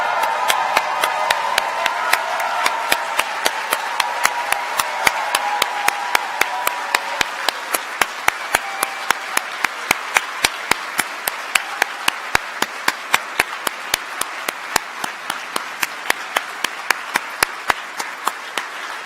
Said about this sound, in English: It's an ovation